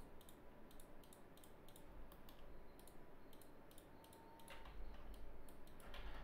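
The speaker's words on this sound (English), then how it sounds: "There's a lot of clicking." Quiet, rapid clicking of a computer mouse while painting a 3D model in Substance Painter, with irregular bursts of sharp clicks, some clustered close together, over faint background hum.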